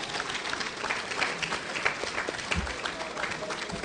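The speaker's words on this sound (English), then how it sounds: "Please give them all a well-deserved round of applause." Sustained applause from an audience at a community fundraising dinner fills the room as steady, even clapping at a moderate level, with faint crowd murmur underneath.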